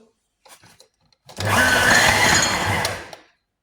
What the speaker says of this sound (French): Maintenant, nous allons mélanger tout dans notre robot.